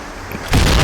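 A grenade explosion in the shooter game Point Blank sounds as a sudden loud, broadband blast that cuts in midway and holds as a dense roar to the end, following quieter game ambience.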